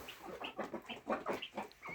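Bantam chickens on a home farm cluck and chatter in a steady run of short, close calls, several birds overlapping with brief pauses.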